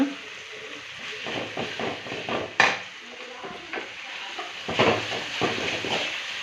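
Tomato and salt frying in a pan make a lively sizzle, broken by frequent stirring scrapes and clinks of a spoon against the pan. A sharp knock and bursts of clatter mark the stirring.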